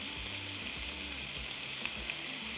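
Ground meat seasoned with Italian seasoning and salt browning in a pan for stuffed bell peppers, a steady close sizzle and crackle with faint low scraping underneath.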